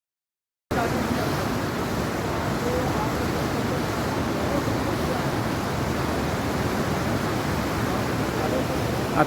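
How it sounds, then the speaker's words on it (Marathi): At Vishnuprayag, the confluence of the Alaknanda and Dhauliganga rivers, rushing water makes a dense, steady roar that starts abruptly after a brief silence and holds at an even loudness throughout. "विष्णुप्रयाग हा 2 नद्यांचा संगम आहे, जिथे अलकनंदा जी बद्रीनाथवरनं येते,"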